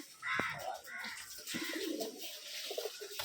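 Pigeons coo in a Rajshahi pigeon farm where gerebaj birds are kept, giving short soft calls close by over steady background noise.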